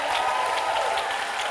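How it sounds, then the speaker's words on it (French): A church congregation cheers and acclaims in praise, a dense, steady wash of crowd shouting and applause-like noise filling the space without pause. "Est-ce qu'on peut célébrer notre Seigneur Jésus avec des acclamations, des cris de louange, la célébration?"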